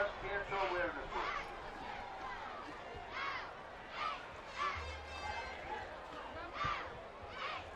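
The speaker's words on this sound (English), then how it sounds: "Jam-packed crowd right here at the dog pond, the dog yard rather" A packed high school football crowd at the dog yard makes a busy, rolling hubbub of cheers and chatter, swelling in waves under a commentator's voice.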